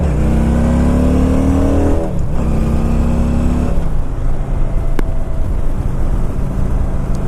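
Motorcycle over 750cc accelerating hard, its engine loud and close, revving up through rising pitch, dropping at a shift, then climbing again before settling into a steady roar with wind noise.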